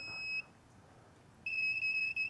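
Multimeter continuity test on a 2007 Dodge 5.9 diesel injector circuit, a steady high-pitched electronic beep that cuts out briefly and returns, close and clear with no talking.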